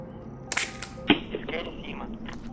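A 3D-printed airsoft rifle fires at a target 20 metres away outdoors: a sharp snap, then a second crack and the smack of impact, with a voice speaking briefly in the background.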